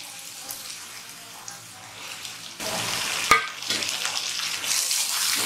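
Tomatoes and onions sauté in a pan for goat leg paya: a soft sizzle that swells louder after a sharp utensil clack midway, then continues with stirring scrapes.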